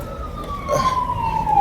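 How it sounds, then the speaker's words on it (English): An ambulance siren wails past outdoors on a street, a single tone sliding downward in pitch as it goes by, fairly loud over traffic rumble. "There go the ambulance."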